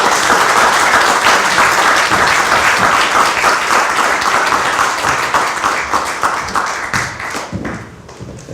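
Loud sustained applause from an audience at a youth leader training event after a speech, dense clapping filling the room and slowly tapering off near the end.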